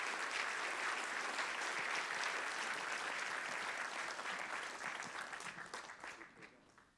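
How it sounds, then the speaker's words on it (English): An audience applauds a keynote speaker, a dense, even clapping that holds steady, then thins and fades out toward the end. "Let's start out with a round of applause for our speaker."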